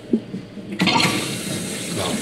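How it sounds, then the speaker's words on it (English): A home toilet flushing, with a soft click then a sudden loud rush of water that settles into a steady refilling hiss, heard up close. "That is the flush."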